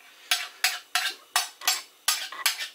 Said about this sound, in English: I take the knife in a downward stroke against the rim of the pie dish